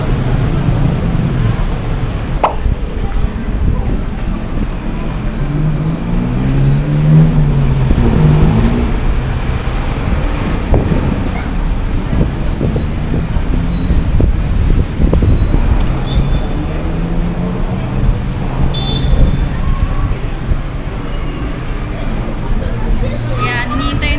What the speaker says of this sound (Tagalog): Sobrang traffic, guys.